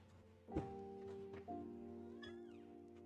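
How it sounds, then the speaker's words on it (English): A house cat meows twice close by, pleading to get into a bedroom, the second cry longer, with a faint chirp-like sound after it in a quiet indoor room. "The cat wants to be left in, so I'm gonna have to open the door"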